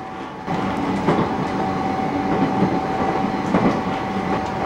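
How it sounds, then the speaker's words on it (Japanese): Rhythmic clatter of train wheels on the rails rises from beneath the floor of a long-seat local train travelling through snowy Gunma toward Niigata, a loud, steady rattle with periodic clicks. "床下から聞こえてくるガタガタという音が本当に良い旅の BGM です"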